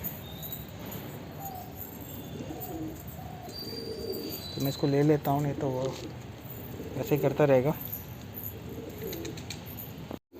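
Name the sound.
pigeons cooing, a male pigeon beside its dead mate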